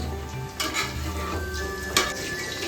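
Ingredients for drumstick chutney sizzle in a pan, a steady frying hiss broken by occasional scrapes and a clank of the stirring spoon against the pan, close and continuous with no voices.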